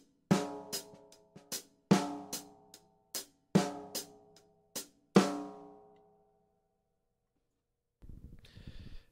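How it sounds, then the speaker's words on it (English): Drum kit playing only hi-hat and a triplet-based backbeat landing on three, crisp ringing hits in a loping shuffle rhythm for about six seconds, then decaying, followed by a short burst of noise. "so with the hi hat and the backbeat only,"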